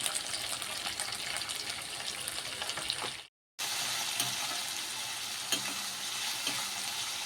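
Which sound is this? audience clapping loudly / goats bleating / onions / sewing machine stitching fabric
onions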